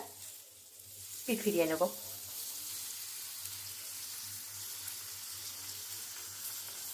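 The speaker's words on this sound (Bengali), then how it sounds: "এইভাবে কড়া করে দু পিঠ ভেজে নেব" Garlic-butter bread slices sizzle on a hot tawa for paneer snacks, a steady close frying hiss that runs throughout, with a brief spoken phrase near the start over the sizzle.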